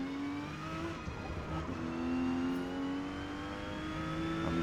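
A Porsche 911 GT2 race car in Forza Motorsport at Kyalami, its engine droning loud and steady at high revs down a straight, pitch climbing slowly as it accelerates, with no voices over it.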